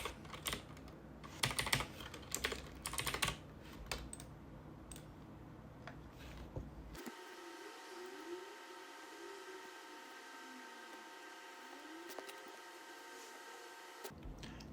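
Quick, irregular clacks of typing on a computer keyboard come in bursts over the first half. A quiet, steady hum with faint tones follows.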